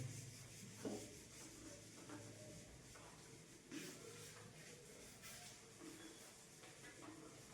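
An eraser rubs writing off a classroom board in a quiet, low-level scrubbing that runs steadily throughout, with a couple of slightly firmer strokes.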